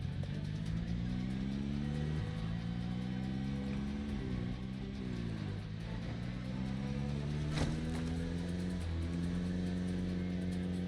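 A car engine in the zombie survival game Project Zomboid, a steady mid-pitched drone that repeatedly rises and falls as the car accelerates and shifts, loud and continuous with no talk over it.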